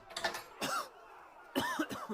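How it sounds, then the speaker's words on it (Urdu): An old grandfather's dry, harsh cough in short bursts: two hacking coughs, a pause, then another cluster of two or three, close and clear against quiet. "پھر انہیں کھانسی آ گئی، تیز سوکھی آواز، کھوں کھوں۔"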